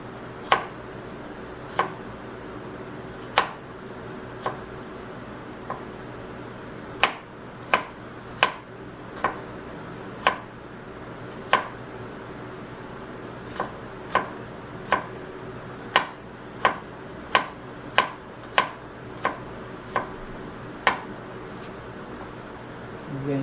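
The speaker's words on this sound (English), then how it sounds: "Chop up the rest of this." Vegetables being chopped on a cutting board for a low-fat spaghetti sauce, a steady run of about twenty crisp knife strikes, close and clear, with quiet background in between.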